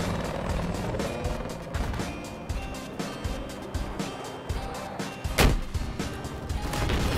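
Battlefield 4 battle as a jet is shot down, heavy engine roar and rotor-like churning mixed with scattered gunfire and a sharp explosion burst midway, all fairly distant and muffled.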